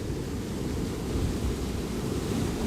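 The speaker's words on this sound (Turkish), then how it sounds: "Rüzgar da iyiden iyide artmaya başladı." Strong wind roars outdoors by a river in Oslo, a dense, continuous rush buffeting the microphone throughout.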